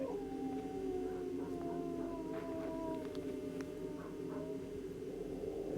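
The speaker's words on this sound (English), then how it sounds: "Here's some dogs barking in the distance." Dogs howling in the distance, long wavering tones that rise and fall together over a steady outdoor hum, with a few faint barks mixed in.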